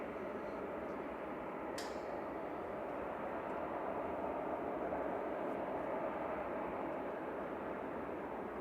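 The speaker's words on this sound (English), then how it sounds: "So it has requested taxi now, so it's going to be moving." Airliner engines at Manchester Airport as the plane begins to taxi, a steady broad jet roar heard from a distance, constant and unbroken, with no talking.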